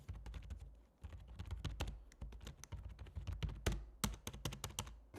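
A quiet wireless membrane keyboard with a USB receiver is typed on in quick, soft, irregular taps, close and faint with brief pauses.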